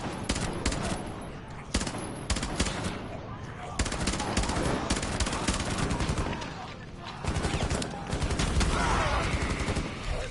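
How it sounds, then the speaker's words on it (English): A light machine gun fires in Rainbow Six Siege Outbreak, loud sustained automatic bursts with brief pauses between strings of rapid shots. "I think I know why they only let one light machine gun in here."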